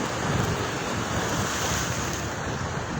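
Strong ocean waves roar continuously, with wind buffeting the microphone and no voices.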